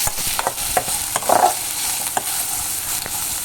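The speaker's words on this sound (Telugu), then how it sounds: "ఇప్పుడు కొంచెం కలుపుతున్నాను." Chopped onions frying in a pan for a drumstick curry are stirred, giving a steady hiss of sizzle with a few scraping strokes of the spoon close by and one louder scrape partway through; no one talks.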